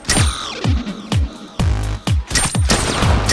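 Rifle gunfire from The Last of Us video game rings out in a rapid volley of loud, close shots, about eight to ten sharp cracks over a few seconds, each trailing a booming echo, with no talk.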